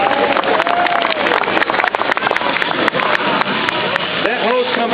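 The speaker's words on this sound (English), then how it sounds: "Let's give our Citizen Fire Academy members a big round of applause" Crowd applause for Citizen Fire Academy members after a hose team puts out a fire, dense rapid clapping filling the whole stretch outdoors, with voices mixed in underneath.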